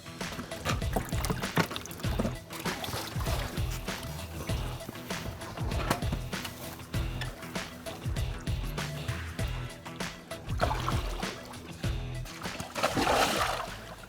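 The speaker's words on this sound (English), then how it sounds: "let's put a little bit of water in this bucket" Pond water scooped and poured into a bucket meant to hold crayfish, with splashes and sloshing bursts scattered over outdoor noise and someone talking.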